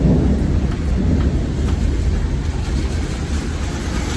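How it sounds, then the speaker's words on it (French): Close thunder from a lightning strike about 20 meters away rumbles continuously and loudly, with steady heavy rain pouring throughout. "Je pense que vous avez entendu le bruit, il y a eu un éclair juste à côté de moi."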